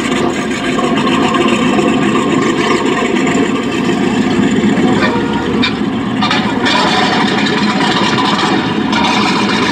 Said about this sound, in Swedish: Dra igång motorn.